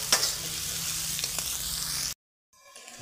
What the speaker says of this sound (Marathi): हे काजू आणि ह्या मिरच्या मी याच्यात घालणार आहे आणि कांद्यासोबतच याला मी भाजून घेणार आहे।